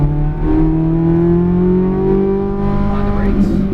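A race car accelerates hard around Las Vegas Motor Speedway, its engine note loud and close, climbing steadily in pitch as it pulls through the gears with a brief tire scrub near the end.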